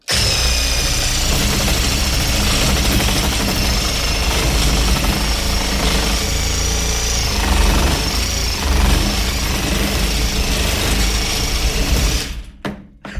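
An AL-KO cordless reciprocating saw buzzes loudly and continuously for several seconds as it cuts through a raw log held in a vise, then stops abruptly.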